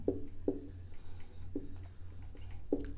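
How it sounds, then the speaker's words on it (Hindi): Chalk or marker strokes on a classroom board as an example is written out, a few distinct taps and scratches spaced irregularly over a low steady hum, close and moderately loud with no talking. "इसका एग्जाम्पल में हम लोग लिखेंगे जैसे कि राम"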